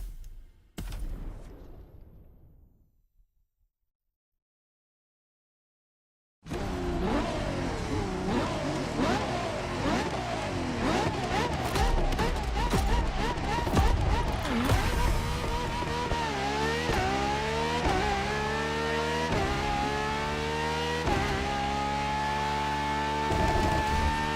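A 2013 Ferrari hybrid supercar engine, petrol and electric working together, revs loudly in The Crew Motorfest, rising and falling through repeated pitch sweeps that grow stronger after a brief silence near the start.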